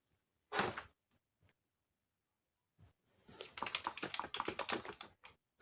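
Typing on an HP Multimedia Slim wireless keyboard: one sharp tap, then a few isolated clicks, and after a pause a fast run of close, crisp keystrokes with no talking.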